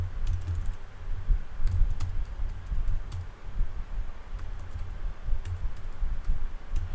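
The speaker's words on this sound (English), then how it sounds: "So let's type this out." Computer keyboard typing, a steady run of soft key clicks over a low background rumble, no voices.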